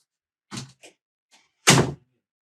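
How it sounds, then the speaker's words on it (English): An indoor door is closed, with a couple of light knocks and clicks from the handle followed by one firm, close thud as it shuts. "Let me close the door."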